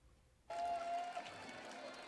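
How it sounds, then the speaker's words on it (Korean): Football crowd of some 2,600 fans cheering at a Cheongju FC home match in Cheongju's stadium, a roar that swells suddenly after a quiet start and holds as a broad, distant wash of voices. "모처럼 만에 관중들의 함성이 경기장을 채웠습니다."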